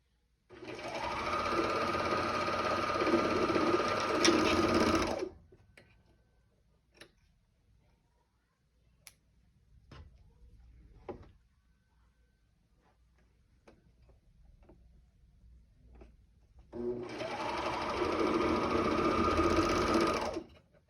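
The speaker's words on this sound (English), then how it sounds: "Once you get used to sewing, it should take you less than 5 minutes to sew up a pair of bummies." A sewing machine stitches fabric for a pair of shorts, a steady loud whir for about five seconds, then quiet handling clicks, then a second long run of stitching near the end.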